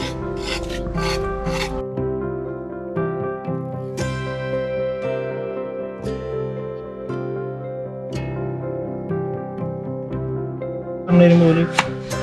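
Vegetables cut with a knife in a home kitchen, repeated scraping and rasping strokes close up over a sustained musical background, with a brief louder clatter near the end.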